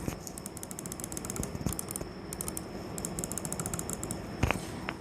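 Redragon Predator RGB gaming mouse buttons clicking in quick repeated bursts, crisp moderate-volume clicks close up, with a soft mechanical rattle and one slightly louder click near the end.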